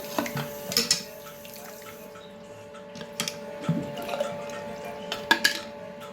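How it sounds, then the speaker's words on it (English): Makeup brushes are rinsed under a running tap, with a soft stream of water, scattered drips and splashes, and a few light clicks and knocks of brushes against a basin, all close by. "So let's rinse this."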